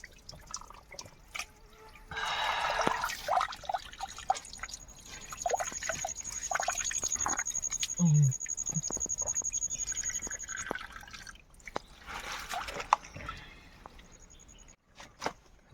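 Water trickles and drips steadily close by at a spring in wild forest land, with a faint high whine running through much of it and occasional small knocks; no speech.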